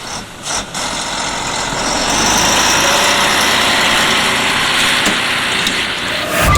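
A rally truck engine at the Dakar 2022 rally runs close and loud, a dense, steady diesel rumble with broadband roar that swells slightly midway and holds without talk.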